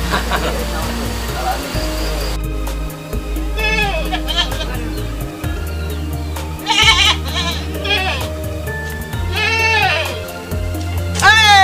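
Sheep bleating in a livestock pen: several loud, wavering calls repeat close by over a steady background hum, with people talking and chatter mixed in.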